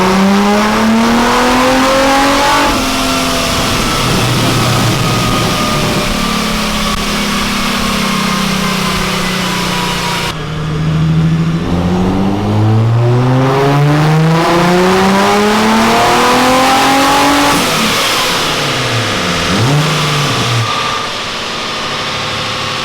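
A car fitted with a Vortech supercharger revs repeatedly, loud and close, with engine pitch sweeping up and down through several pulls, dips and brief pauses before settling near idle.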